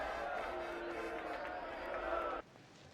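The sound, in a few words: crowd noise at a gathering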